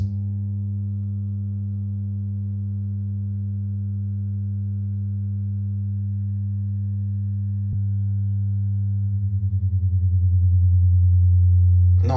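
A steady 100 Hz test tone plays through a JBL Partybox Ultimate speaker, a constant low hum held alone for several seconds, then briefly clicking and wavering with a beating pulse near the end.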